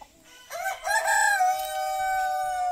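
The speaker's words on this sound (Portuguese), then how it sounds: "Essa área aqui agora eu soltei para as galinhas darem uma andada." Polish giant chickens roaming an open yard, with a rooster giving one clear, loud crow that rises and holds steady, after a brief cluck at the start.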